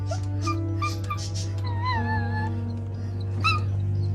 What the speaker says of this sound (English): Sometimes the dogs outside will start barking